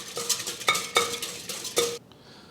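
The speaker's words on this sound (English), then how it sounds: "Whisk that in." Sugar is whisked into a yeast mixture in a bowl, a quick series of about seven close rhythmic whisk strokes clinking against the bowl that stop after two seconds.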